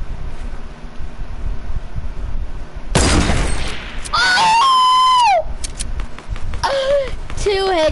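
Sniper rifle shots in a first-person shooter game, sharp loud cracks in quick succession followed by whistling, sweeping electronic game tones.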